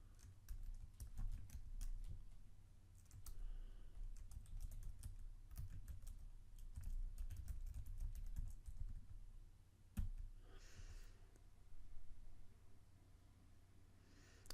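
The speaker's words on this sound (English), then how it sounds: "And if you click on the Enter key of your keyboard, it'll update it." Rapid, steady clicking of computer keyboard keys, close and fairly quiet, with a brief pause and a single sharper keystroke partway through before the typing resumes.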